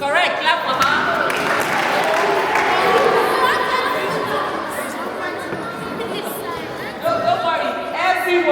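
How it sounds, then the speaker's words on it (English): A crowd of children and adults claps and cheers at a volunteering event in Nigeria, loud applause mixed with lively chatter and voices across the whole stretch. "Correct, clap for her."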